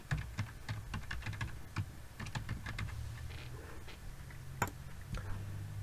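Quick, uneven clatter of a computer keyboard as a folder name is typed on a Windows PC, close and crisp with a short pause and one sharper tap near the end.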